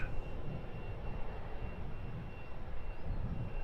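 A Ryanair jet departs Luton Airport with a steady, distant low roar of engines that holds evenly throughout on an overcast day.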